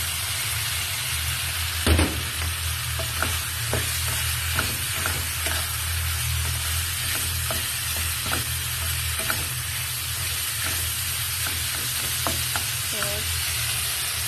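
Ground meat frying in a pan with tomatoes, a steady close sizzle running throughout, broken by repeated sharp clacks of a utensil stirring and scraping the pan.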